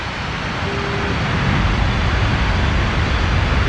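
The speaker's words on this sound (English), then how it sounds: "These are probably some of the noisiest engines you've got here today in the world." Twin jet engines of a MiG-31BM fighter in the DCS flight simulator roar as a steady, loud, broadband rumble that swells slightly and holds, with no talk.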